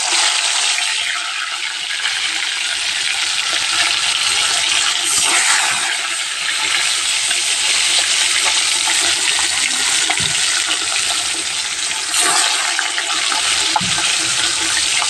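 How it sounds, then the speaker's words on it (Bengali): Koi fish frying in hot oil, a loud continuous close crackling sizzle throughout, with a few brief swells of bubbling. "বন্ধুরা তেলটা গরম হয়ে গিয়েছে, এবার কই মাছটা তেলে ছেড়ে দেব।"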